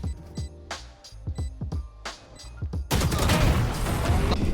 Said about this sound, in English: One enemy remaining. Now for shotgun.